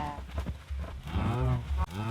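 Cows in the video game Minecraft moo several times in succession, loud and close, with clear low drawn-out calls overlapping one another.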